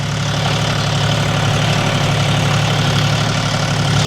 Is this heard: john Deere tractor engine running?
yes